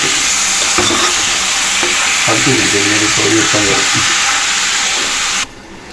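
Ingredients for an Ankamali-style pork and koorkka curry sauté in a hot pan, a loud steady sizzle with stirring scrapes and clatter running throughout before cutting off abruptly near the end.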